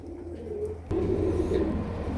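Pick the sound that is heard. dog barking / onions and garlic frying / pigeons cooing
pigeons cooing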